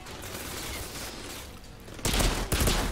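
An automatic sniper rifle fires in the sci-fi shooter Outriders, with loud, booming shots arriving in a short burst at the end over a steady background of game ambience.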